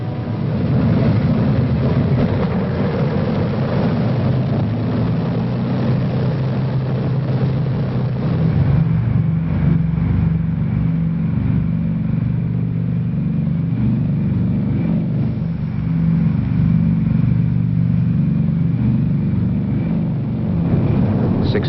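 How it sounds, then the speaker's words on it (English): Several B-29 Superfortress heavy bombers run their propeller engines for takeoff, a loud continuous droning roar with a steady low rumble that swells and shifts in pitch midway and keeps going. "The men are ready for the takeoff."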